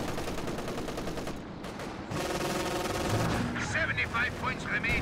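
Shots from an M1 anti-tank gun in Company of Heroes 2, booming over a dense, continuous wash of battlefield noise with voices speaking through it.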